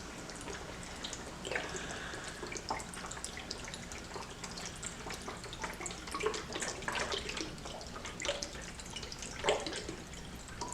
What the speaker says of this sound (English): I'm going to add water too